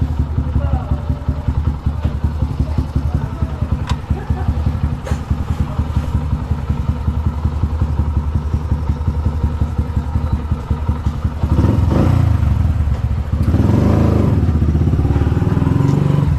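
A freshly tuned-up motorcycle engine runs nearby with a steady, rapid thumping idle, revving briefly near the end; a voice talks over it at times.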